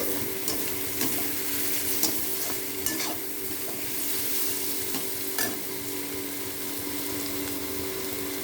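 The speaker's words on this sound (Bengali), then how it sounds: "গাজর, বিনস, আলু দিয়ে ভাত ভাজা করব।" Carrots, beans and potatoes fry in a pan for vegetable fried rice, giving a steady, soft sizzle with occasional stirring clicks and scrapes throughout, close up and without voices.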